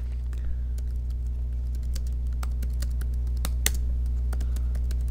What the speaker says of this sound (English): You can hear me typing, can't you?